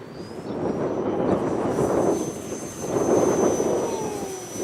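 Wind buffets the microphone in low, rumbling gusts that swell and fade while an E-flite Clipped Wing Cub 250 RC plane flies on a breezy day, its thin motor whine audible above the rumble.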